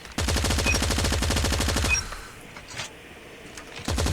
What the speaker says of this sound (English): it's a fast-firing, low recoil, high accuracy gun